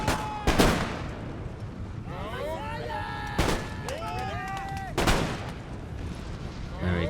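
In an Empire Total War battle, musket volleys fire in three sharp, loud cracks spaced a couple of seconds apart, with a steady battle din and shouting voices between them.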